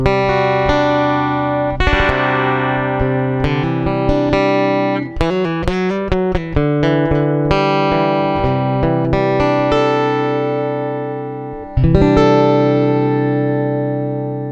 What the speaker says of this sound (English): So this is a basic Piezo sound.